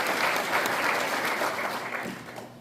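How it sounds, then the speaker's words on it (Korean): Steady audience applause welcoming a guest at a 106th anniversary ceremony for the Korean Provisional Government in Gyeonggi Province, a dense wash of many hands clapping that holds level and tapers slightly at the end, with no voices over it. "박수로 환영해 주십시오."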